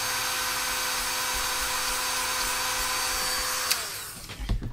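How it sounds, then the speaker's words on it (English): Small rotary tool with a rubber buffer working the X-reed of a ChromaBender harmonica, giving a steady high-pitched motor whine with a grinding edge that winds down near the end and is followed by a few clicks. "Let's just do it quickly with a little rubber buffer."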